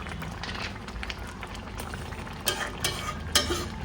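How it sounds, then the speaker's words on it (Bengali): Jaggery with added sugar melting in a pan for a spiced chutney, stirred now and then, giving soft scraping and stirring noises with a few sharper utensil clinks near the end. "গুড়টা যতক্ষণ না গলবে ততক্ষণ আমাকে মাঝে মধ্যে এরকম নাড়াচাড়া করে দিয়ে যেতে হবে"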